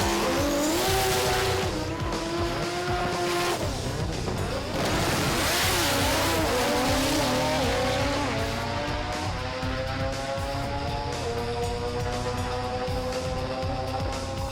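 Drag racing cars at Sydney Dragway during an NSW Championship round roar past loudly, engines rising and falling in pitch with tire squeal as they pass.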